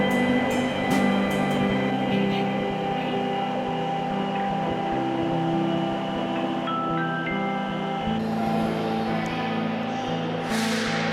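Inside a Daxing Airport Express metro train car, a steady low rumble and hum of the moving train continues throughout, with faint tonal whines and occasional clicks and rattles, no talking.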